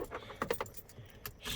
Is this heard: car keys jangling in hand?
yes